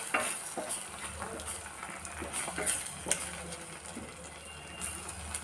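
Egg masala being stirred in a frying pan, with steady sizzling and frying under repeated spoon scrapes and clinks against the pan, close and moderately loud throughout.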